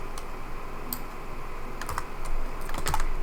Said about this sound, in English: So let's just type it in